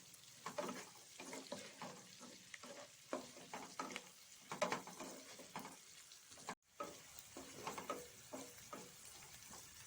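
A spatula scrapes and stirs capsicum and onions with ground black pepper in a pan as chilli chicken is made at home, in uneven strokes over a quiet sizzle, with one sharp break partway through.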